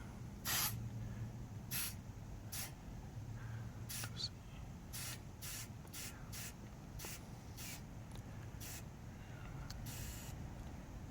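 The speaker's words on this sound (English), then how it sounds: "So air compressor's all charged up, so I'll squeeze the trigger." A cordless air compressor inflates a bicycle tire toward about 100 psi, giving a string of short, faint hissing spurts at an uneven pace over a low steady background.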